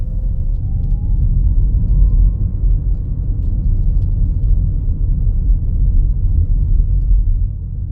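A car drives slowly past a parked car on its side of the road, giving way to oncoming traffic, with a steady, loud low rumble of engine and road noise from inside the car and no talk.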